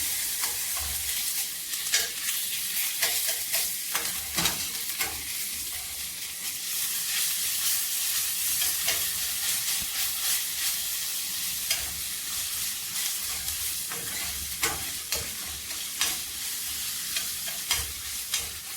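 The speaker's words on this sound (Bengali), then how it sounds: "পেঁয়াজ কিছুক্ষণ ভেজে নেব আদা রসুন বাটা দিয়ে দেবো" Chopped onions frying with ginger-garlic paste for bhuna khichuri, a continuous close sizzle broken by repeated scraping and clacking of a spoon stirring the pan, with no talking.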